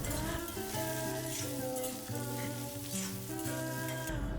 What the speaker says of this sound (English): Next, I'll add the minced garlic and saute it for just a minute.